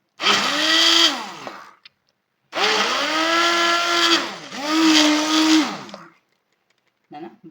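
An electric blender whirs through cooked tomatoes in three loud bursts, each a few seconds long with a rising, then falling motor pitch, separated by short pauses.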